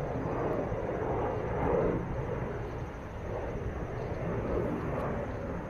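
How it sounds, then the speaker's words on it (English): Airplane passing near the Washington Monument gives a distant, steady low rumble that swells slightly and fades back, with no voices over it. "we've got the Washington Monument and a plane going by right next to it"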